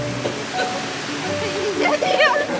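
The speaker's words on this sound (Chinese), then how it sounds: "哇，又有那个海浪，等一下啊" Sea waves wash onto the beach at Perhentian Island, a continuous rushing surf that swells louder toward the end, with a person speaking over the water.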